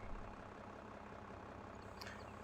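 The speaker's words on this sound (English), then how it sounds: "This lovely little tractor will take all of our equipment back to our farm" Farming Simulator 22 tractor engine giving a steady low rumbling drone that holds at an even loudness throughout, with a brief faint higher tone near the end.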